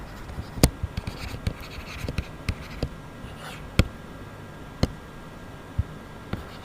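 Chalk or a marker writes given data on a board in a physics lesson, producing short scratchy strokes and sharp taps at an irregular pace, close and fairly quiet, with no talk heard.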